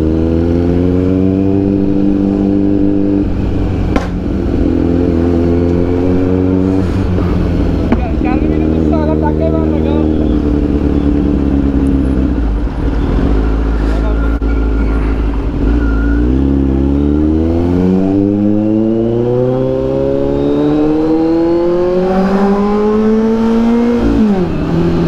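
Kawasaki Z900 motorcycle with a Racefit exhaust revving loud and close, its deep roar holding steady and then climbing in repeated rising sweeps.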